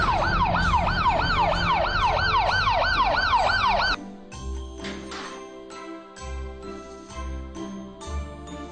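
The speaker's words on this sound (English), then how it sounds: "Blue color police car." A loud police car siren wails in rapid rising and falling sweeps for about four seconds, then cuts off abruptly as bouncy, jingly children's music takes over.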